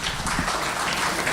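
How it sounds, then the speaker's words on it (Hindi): An audience at a mushaira in Pune gives continuous, loud, dense applause during a book launch ceremony. "ज़ोरदार तालियों में इजरे की रस्म का इस्तकबाल"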